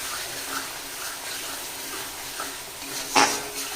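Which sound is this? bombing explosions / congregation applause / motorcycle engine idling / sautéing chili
sautéing chili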